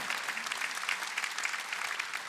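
A church congregation at a Sunday worship service claps hands together, a dense, continuous burst of applause that stays even and fairly loud from start to finish.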